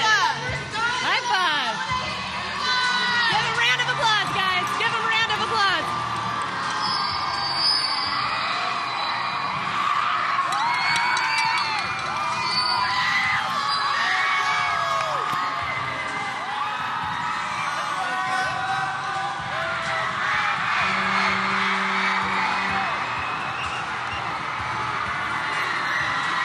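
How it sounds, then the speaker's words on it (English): Students at a high school pep rally cheer, shout and clap in a large, echoing crowd, loud and sustained, with an announcer and children talking over the noise. "Give a round of applause, guys."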